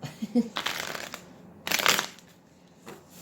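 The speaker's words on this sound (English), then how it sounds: "It's going to be really hard to shuffle." A deck of Twin Flame Journey tarot cards by Mystic Moon is shuffled by hand in a few bursts of riffling and sliding, the loudest near the middle, close and soft, with faint talk between.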